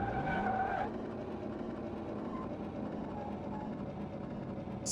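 A tractor in the Car Mechanic Simulator game drives on bare wheel rims, giving a continuous grinding scrape and rumble, with a brief squeal at the start, steady and fairly close.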